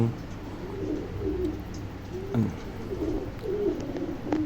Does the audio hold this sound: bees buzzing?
no